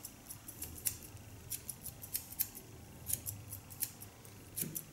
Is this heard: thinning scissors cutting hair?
yes